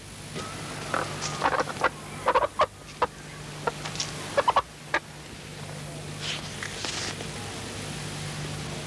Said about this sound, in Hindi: देसी मुर्गी है